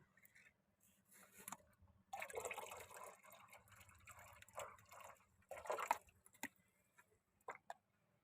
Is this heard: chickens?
no